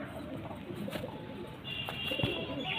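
Domestic pigeons, a male and a female kept indoors, coo softly and repeatedly at close range, with low throaty calls over a steady faint background and no talking.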